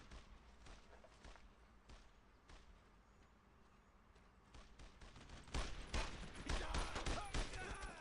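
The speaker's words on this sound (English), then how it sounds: "let's just get on his flank here and just gun him down" Gunfire from a WWII video game crackles as scattered shots and bursts, sparse at first and then denser and louder near the end, with no talking.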